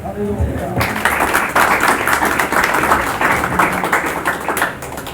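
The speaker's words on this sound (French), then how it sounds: "J'ai envie d'applaudir au Seigneur." A church congregation breaks into lively applause after a brief voice at the start, with dense clapping building quickly and holding steady before easing off near the end.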